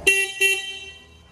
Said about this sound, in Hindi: हॉर्न भाई अपने को सिंगल ही मिलता है, ठीक ठाक हॉर्न है